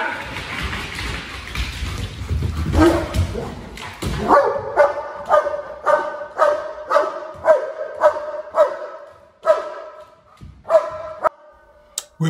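A German Shepherd protection dog barks loudly and close, a rapid series of about a dozen sharp, evenly spaced barks after some earlier scuffling noise.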